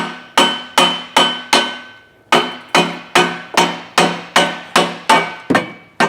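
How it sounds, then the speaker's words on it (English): A dead blow hammer tapping a part on a Mustang 2V engine, about fourteen sharp, evenly spaced knocks with a short pause after the fourth, loud and close, nothing else heard. "I think I need to tap that with a dead blow."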